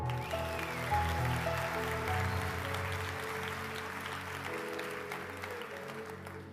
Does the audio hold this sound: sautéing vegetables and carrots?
no